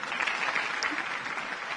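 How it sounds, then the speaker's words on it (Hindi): A crowd applauds, a steady, even patter of many hands that sounds somewhat distant and moderately quiet, continuing throughout without a break. "वो तो तालियां बजानी शुरू कर दी।"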